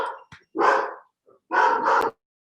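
A dog gives two loud, close barks about a second apart, each burst harsh and sustained, with brief quiet gaps and faint clicks between them.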